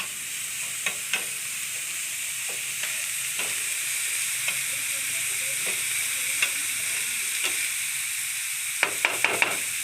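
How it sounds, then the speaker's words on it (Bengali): An egg roll fries in a pan with a steady sizzling hiss that runs throughout, broken by occasional sharp clinks and scrapes of stirring, with a brief cluster of clicks near the end. "এই দেখো এটাকে এখন ভেজে তারপরে কীভাবে কী করবে।"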